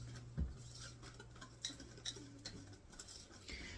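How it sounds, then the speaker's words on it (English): A whisk taps and scrapes around a bowl of pumpkin pie filling in quick, light clicks and clatters, close and fairly quiet, with a low steady hum underneath. "I'm just whisking all that in now."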